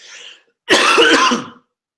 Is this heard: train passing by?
no